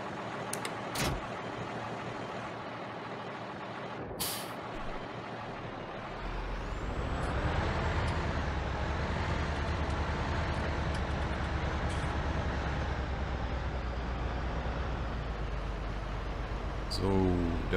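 Fendt 615 LSA Turbomatik E tractor in Farming Simulator 19, with a short clunk and hiss before the engine starts and settles into a steady drone. A voice speaks over it.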